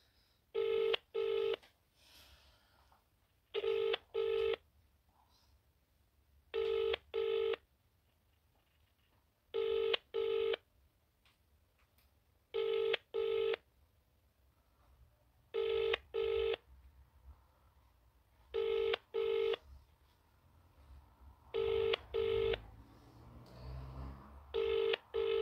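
A phone rings repeatedly with double-burst tones in a steady rhythm, pausing between rings, with no one picking up; faint room noise in between.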